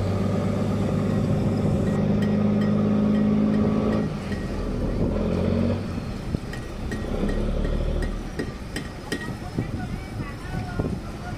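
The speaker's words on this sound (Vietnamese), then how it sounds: "Mới hôm nay ghe về cảng rất là đông" Fishing boats returning crowded to a port after a catch of yellowstripe scad, engines droning and idling steadily near and loud with harbour bustle, changing pitch midway as another boat passes.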